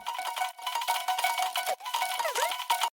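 A piano sample taken from original song stems and processed in Ableton, heard as dense, shimmering tonal layers with bell-like sustained pitches and gliding, swept notes near the end, continuous and fairly loud.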